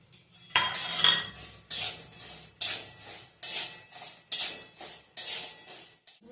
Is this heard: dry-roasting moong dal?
yes